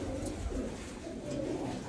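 Teddy pigeons coo softly in their loft, a low continuous murmur of several birds overlapping at moderate distance.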